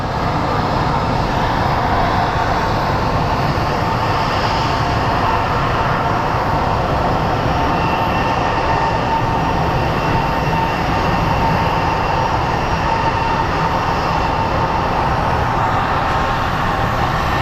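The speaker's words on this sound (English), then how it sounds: "up next, that's becoming live, is a Delta A321 headed to Minneapolis" Delta Airbus A321 jet airliner departing Phoenix Sky Harbor for Minneapolis, a loud, steady broadband engine roar that holds for the whole stretch without a break, with no voices over it.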